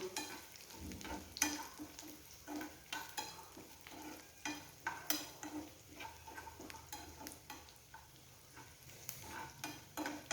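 Ghee sizzles in a pan while being stirred for payasam, with soft scraping of a spoon and irregular crackling bursts close by and no talking.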